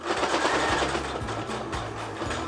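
A sewing machine stitches a quilted patchwork bag with a rapid, continuous mechanical whir and needle chatter, running steadily and close up throughout.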